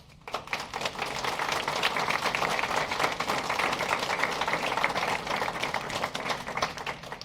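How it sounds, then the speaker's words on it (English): Applause for transit district employees marking 20 years of service, a brisk clatter of many clapping hands that swells quickly after a quiet start and stays fairly loud and busy to the end. "please give them a round of applause"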